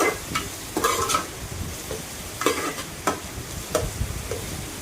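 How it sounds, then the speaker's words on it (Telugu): Sliced onions frying with a pinch of salt in a pan as a spoon stirs them, producing a steady sizzle broken by several scraping, clattering stirs at irregular intervals, close and fairly loud, with no voices. "ఆనియన్స్ బ్రౌనిష్ కలర్ వచ్చే వరకు వేపుకుందామండి."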